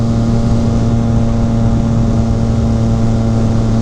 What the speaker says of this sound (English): That is that constant, you know, exhaust sound you'll hear like on the freeway